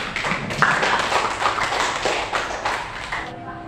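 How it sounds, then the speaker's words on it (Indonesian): Classroom students clap for a classmate, a busy patter of many hands close by that runs steadily and thins out toward the end, with voices mixed in. "tepuk tangan dulu untuk temannya"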